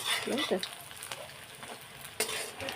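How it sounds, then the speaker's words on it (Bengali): Pumpkin flower fritters frying in hot oil in a home kitchen, giving a steady close sizzle with brief stirring clatters, and faint speech comes through near the start. "কুমড়ো ফুলের বড়াগুলো আমি ভেজে ভেজে নিচ্ছি"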